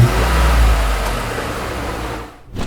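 An Abarth 595/695 with a 1.4 liter four-cylinder engine revs up close by, holding a loud, low rumbling engine note that eases off toward the end.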